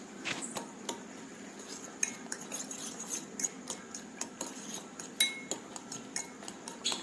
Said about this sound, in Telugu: ఇప్పుడు మనము వీటిని చక్కగా కలుపుకుందాం.